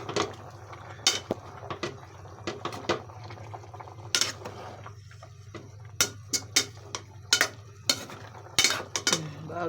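Sautéed mixed vegetables with malunggay being stirred in a pan, a steady low sizzle under repeated sharp scrapes and clinks of a utensil against the pan, close and fairly loud, with no talking.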